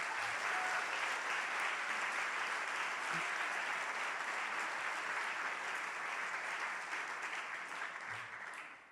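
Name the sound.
gala audience applause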